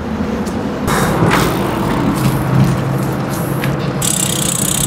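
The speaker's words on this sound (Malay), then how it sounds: "Teh. Lori saja, geng." A lorry passes close by on a road near Port Klang, a loud broadband rush of engine and tire noise swelling and holding over a few seconds.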